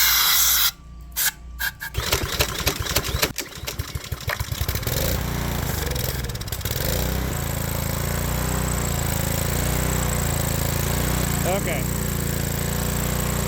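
A grumpy small engine on a machine being started by pulling, sputtering and struggling, then catching into a rough, uneven running drone, loud and close, with a person briefly speaking.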